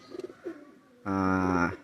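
Pigeons coo close by: a few soft low calls, then a sustained, rich cooing that continues steadily to the end.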